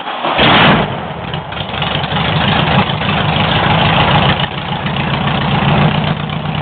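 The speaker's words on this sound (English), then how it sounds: "you can check out the exhaust back here too" A loud rat rod car engine catches and settles into a rough, rumbling idle, its deep exhaust burble steady and close for the rest of the clip.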